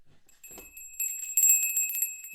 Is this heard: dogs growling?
no